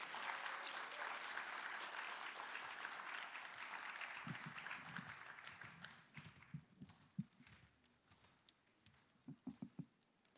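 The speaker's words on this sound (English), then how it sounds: "Give them a round of applause." An audience at a teen poetry showcase applauds, a broad wash of clapping that fades into scattered individual claps and thumps as it dies away.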